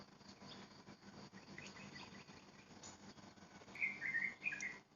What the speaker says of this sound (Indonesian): Alhamdulillah suara burungnya ada lagi.